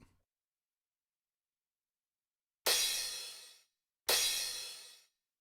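Two bursts of synthesized noise from a Korg Radias, each with a sharp attack and a decay of about a second. The bright hiss stands alone, separated by a short silence.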